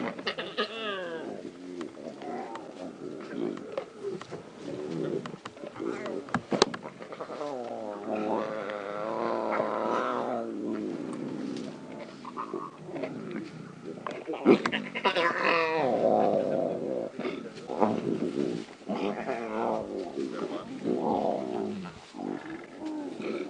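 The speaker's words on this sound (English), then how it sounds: "Listen to that sound. Those are cubs growling." Lion cubs of the Styx pride growl in low, rumbling bouts at moderate distance during a morning safari drive in the wild, with a guide talking quietly over much of it.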